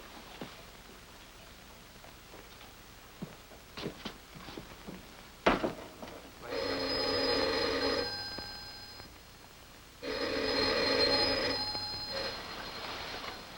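Telephone ringing in two long bursts, the bell loud and close, with a pause between rings and some faint rustling and knocks beforehand.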